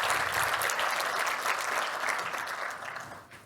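A conference audience at a tech workplace summit keynote applauds in a dense, even burst of clapping that holds steady for several seconds, then tapers off near the end.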